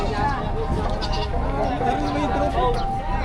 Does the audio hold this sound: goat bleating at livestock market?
yes